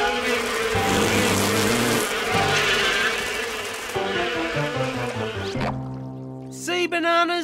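Cartoon bees buzzing in a steady, dense drone that fills most of the scene, with a brief splash-like burst and chirpy effects near the end.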